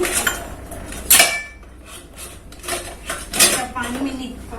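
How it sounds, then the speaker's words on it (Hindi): Dishes, pots and steel utensils clatter and clink during washing in a home kitchen, with irregular sharp metallic knocks and scrapes close by and someone talking intermittently. "रुको बर्तन धुल लेते हैं।"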